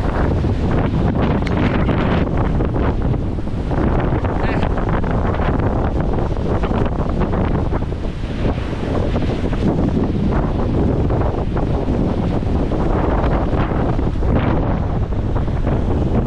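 Strong southwest monsoon wind (habagat) roars loud and unbroken against the microphone throughout, a dense, gusting rush with no letup.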